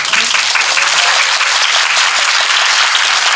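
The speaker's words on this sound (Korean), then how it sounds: "지금 박수 한번 쳐볼까요?" A film talk-event audience gives loud, dense, sustained applause, an even roar of clapping with no speech over it.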